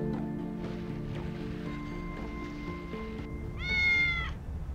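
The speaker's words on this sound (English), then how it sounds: "William was meowing and dancing" A cat character in the game Tales of the Neon Sea gives a short meow near the end, faint and rising over quiet ambient game music with soft rustling tones.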